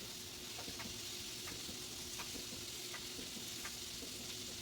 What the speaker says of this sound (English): I'm going to go ahead and stir my meat up